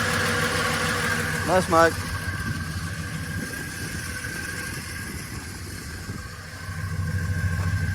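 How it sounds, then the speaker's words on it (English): A Dodge VJ ute engine idles with no transmission fitted, running steadily with a rattling clutch noise, while someone speaks briefly over it. "I think a lot of that noise now is coming from the clutch or something, because it's got no transmission in it."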